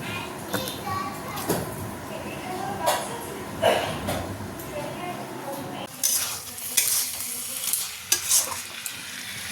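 Masala sizzling and being stirred with fried cauliflower in a pan, with scraping and clatter of utensils against the pot, busier and louder in the second half, with a voice talking at times and faint background household noise.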